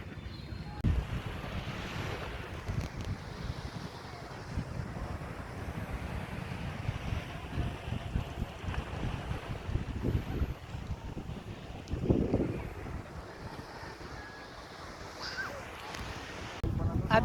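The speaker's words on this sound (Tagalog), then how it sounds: "Maalon yung tubig." Rough sea waves wash onto a beach at Bagac, Bataan, a steady rumbling surge mixed with wind buffeting the microphone, with a louder swell around the middle and faint voices in the background.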